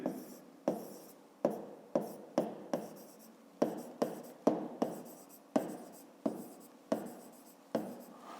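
A pen or pencil writes out a math solution for a room volume problem in a fifth grade exercise. Repeated short, sharp strokes come close and clear in an irregular rhythm, with no talk.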